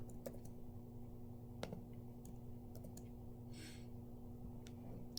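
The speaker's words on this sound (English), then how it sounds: "So let me just type this out for you." Soft scattered keystrokes on a computer keyboard while entering a formula into an Excel spreadsheet, faint and irregular over a steady electrical hum, no speech.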